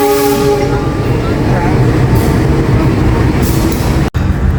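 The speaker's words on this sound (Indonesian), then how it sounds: "20:10 tepat, kereta api Serayu diberangkatkan dari stasiun Jakarta Pasar Senen." The Serayu Malam night train departs Jakarta Pasar Senen station, opening with a loud horn blast over the heavy rumble of the moving train, which carries on steadily and close.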